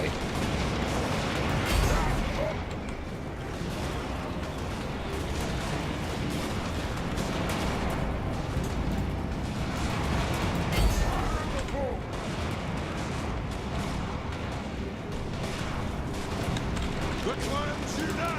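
Gunfire from units in a Total War: Warhammer battle, a dense continuous crackle of musket and rifle volleys with occasional heavier booms, heard as a steady battle din.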